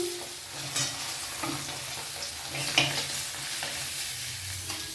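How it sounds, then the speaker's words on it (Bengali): Hilsa fish frying in hot oil with steady crackle and sizzle, broken by occasional scrapes and stirring clinks close by, no talk. "মাছগুলো একটু লাল করে ভাজবো"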